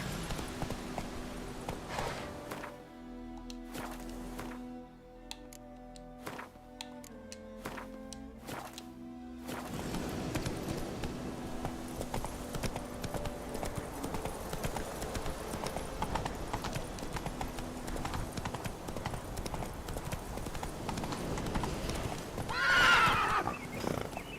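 A horse in The Witcher 3 video game clip-clops at a steady gallop with a rhythmic, rapid beat, and a neigh breaks out near the end, all fairly faint under a game mix.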